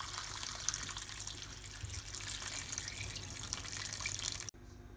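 Water runs in a steady, rushing stream into a pot for a fish head bisque, a continuous close splashing pour that stops abruptly near the end.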